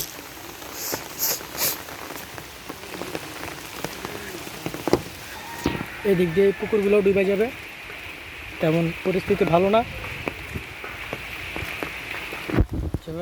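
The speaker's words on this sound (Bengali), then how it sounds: "বৃষ্টি হইতেছে আজকে সারাদিন চললে হয়তো" Steady rain patters down throughout while someone talks in short bursts nearby.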